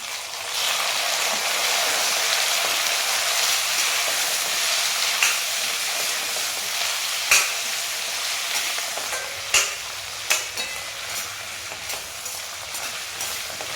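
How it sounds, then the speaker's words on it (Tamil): Two large tomatoes fry in a pan for a pirandai chutney, giving a loud, close, continuous sizzle that eases toward the end as several sharp spoon taps and scrapes of stirring come through. "இப்போ நம்ம தக்காளி சேர்த்துக்கலாம் ரெண்டு பெரிய தக்காளி சேர்த்துருக்கேன்"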